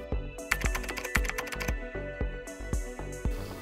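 Crisp, rapid keystrokes clack on a thin Kanex Multi-Sync aluminum Bluetooth keyboard for Mac and iOS in a quick, uneven rhythm, close up and with no voices.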